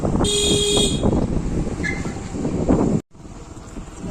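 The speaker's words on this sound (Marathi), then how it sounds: "पप्पा जिथं नको तेव्हा हॉर्न वाजवता तुम्ही" A car horn blasts once, loud and close, for nearly a second over steady road and engine noise, followed by quieter traffic and an abrupt cut.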